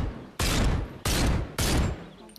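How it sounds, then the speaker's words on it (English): Three loud, broad gun blasts in the VR game Bonelab, each a sharp burst with a short rumbling tail, spaced about half a second apart and heard alone. "Now, all these gun sounds"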